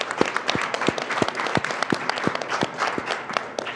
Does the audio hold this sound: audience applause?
yes